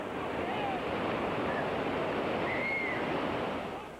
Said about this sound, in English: It's a lot more whitewater.